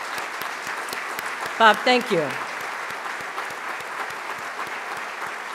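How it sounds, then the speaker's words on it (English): Steady audience applause rolls through the 2015 State of the County Address, an even bed of clapping while someone speaks briefly over it. "so we can give him a round of applause."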